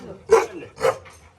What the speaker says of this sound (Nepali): यहाँ यो कुकुर चाहिँ खतरा छ